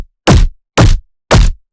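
Three thick, thudding punch hits form the impact layer of a Yakuza 0 sound redesign, evenly spaced and loud, each cut short with silence between them.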